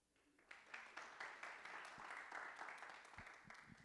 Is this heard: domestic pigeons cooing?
no